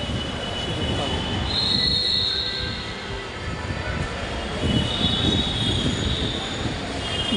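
Dhaka metro rail train at an MRT station, a loud rumbling run with high, sustained wheel squeals that rise and fade twice, close and continuous, without talk.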